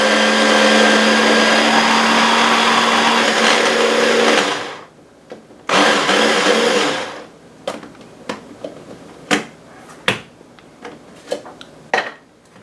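A kitchen blender whirls a gluten-free, dairy-free Italian meatball mixture with a loud, steady whir for about four seconds, cuts out, then runs in a second short burst before a few sharp clicks and knocks.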